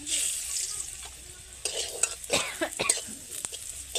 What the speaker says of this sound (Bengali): তেলে দিয়ে দেব কয়েকটা রসুনের কোয়া।